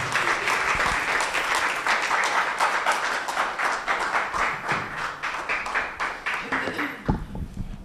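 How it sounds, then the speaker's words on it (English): Audience applause at a Ghana media forum on food safety and agrochemical use, welcoming the keynote speaker to the podium: dense, steady clapping from a crowd for about seven seconds, ending abruptly, with some voices underneath. "Shall we receive him with an applause as he draws near the podium?"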